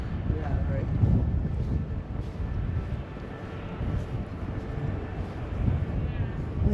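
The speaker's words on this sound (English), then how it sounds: "It's windy." Wind gusts along a snowy canal, buffeting the microphone in a constant low roar, with people talking faintly underneath.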